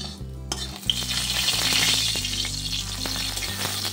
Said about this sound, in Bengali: একটা কড়ার মধ্যে সর্ষের তেল দিলাম, তারপরে দিয়ে দিলাম ফোড়ন হিসাবে মৌরি, কালো জিরে